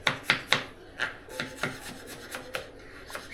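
An onion being finely sliced with a knife on a board while making a bread omelette: a quick, slightly uneven run of about a dozen crisp, close cuts, each a short dry snap with faint rubbing between strokes.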